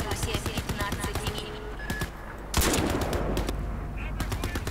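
Turret gunfire in the video game Crysis 3, rapid sustained automatic bursts with a heavier blast midway, loud and dense throughout, with faint voice underneath.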